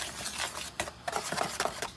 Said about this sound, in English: I'm just going to get this all whisked together.